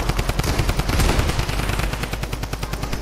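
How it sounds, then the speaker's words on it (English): Rapid automatic gunfire in the video game Fortnite, a dense unbroken stream of loud shots rattling steadily for about three seconds with no talk over it. "Why is Snoop Dogg shooting at me?"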